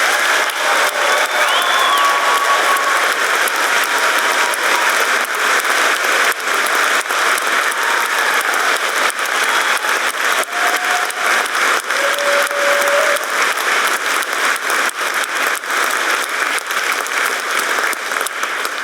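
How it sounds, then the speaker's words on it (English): An audience at a polytechnic graduation ceremony gives the graduates a sustained, enthusiastic round of applause, a dense and steady wash of clapping that holds loud for the whole stretch. "give one more enthusiastic round of applause to celebrate our graduates"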